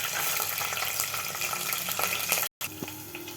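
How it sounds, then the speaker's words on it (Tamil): Fenugreek and mustard seeds crackle and splutter in hot oil for a tamarind curry, a dense, close, steady sizzle with scattered pops and a brief dropout near the end. "பாருங்கள் மக்களே, இப்போ வெந்தயம் பொரியுது."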